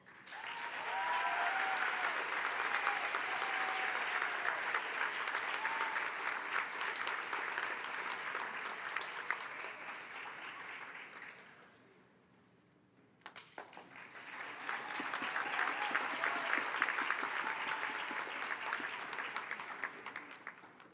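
A large audience at a graduation ceremony claps at length. The dense, even applause holds strong for about ten seconds, fades almost to nothing, then swells again just as loudly.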